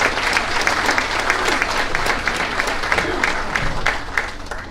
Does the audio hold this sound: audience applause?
yes